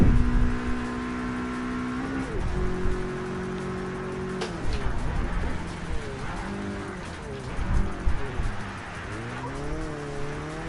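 Project Cars 3 racing game car drifting in the rain with four-wheel drive, engine tones sliding up and down as the car swings sideways, with tyre noise and spray under the steady engine drone.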